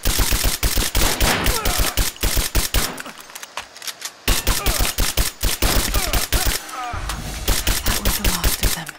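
Gunfire in the video game Rise of the Tomb Raider crackles in loud, rapid automatic bursts, with a short lull midway before the volleys resume close and dense.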